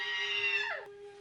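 A woman in a 1980 horror film lets out a single shrill, sustained scream that bends downward and cuts off, loud and close, with a faint steady tone behind it.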